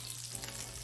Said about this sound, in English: Not yet, you're not supposed to sizzle yet.